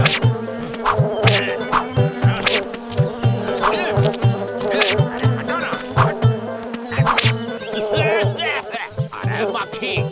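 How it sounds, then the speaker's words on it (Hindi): Buzzing housefly in a Hindi kids' cartoon about food, a steady insect drone with pulsing wingbeat rhythm running the whole stretch, close and fairly loud under busy background sound. "अरे मक्खी, हमारा दूध से दूर रहो।"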